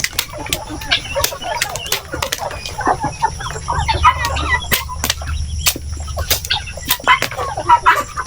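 Chickens cluck continuously in a lively flock, close and fairly loud, with sharp clicking and rattling noises scattered throughout and a low hum underneath.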